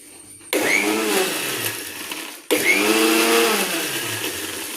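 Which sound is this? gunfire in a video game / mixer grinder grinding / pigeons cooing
mixer grinder grinding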